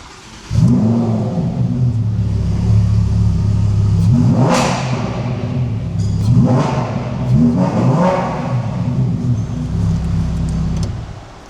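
A Lamborghini Huracán Evo engine fires up with a loud roar, then revs sharply several times in quick bursts before settling into a deep, rumbling idle.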